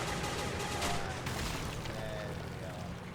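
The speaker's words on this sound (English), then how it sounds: "Let's just fire a few shots." Droids trade gunfire in the Men of War video game, a steady crackle of distant shots layered over a dense battle din.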